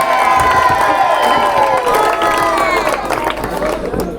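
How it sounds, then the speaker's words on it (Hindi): A crowd at a boys' high school prize-giving ceremony claps and cheers, with excited children shouting over the applause; loud and continuous, easing slightly toward the end. "तालियां"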